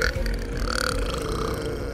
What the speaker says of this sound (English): it was a massive dog burp